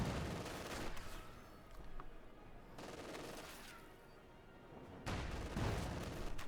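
Infantry gunfire in Company of Heroes 2, a World War II strategy game: repeated bursts of rifle and machine-gun fire trading back and forth at moderate distance, with dull artillery thuds, in several surges and lulls without speech.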